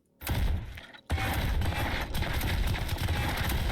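Sustained automatic gunfire in the tower-defense game Castle of Alchemists, starting with a short burst, breaking off briefly, then resuming as a loud, continuous rattle of rapid shots against waves of enemies.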